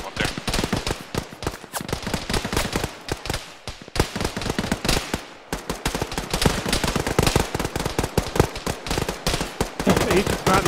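Dense, continuous rifle and machine-gun fire from an ArmA battle on the ShackTac Foothold mission, loud sharp shots rattling in rapid overlapping bursts with occasional brief lulls.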